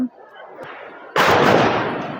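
After a quiet stretch of soft rustling, a single loud firecracker bang bursts out at Diwali, followed by a crackling hiss that slowly fades.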